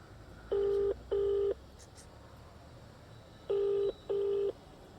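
Four clear telephone keypad tones sound in two pairs, each tone a short steady beep, with a pause between the pairs.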